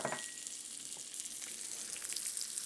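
Sliced shallots go into a pan of frying zucchini, giving a steady, close hiss and crackle of sizzling oil throughout, with no voices.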